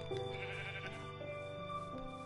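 Sheep bleating in Minecraft on PS4, several wavering bleats overlapping one another in steady succession, moderately close and clear, with no talk over them.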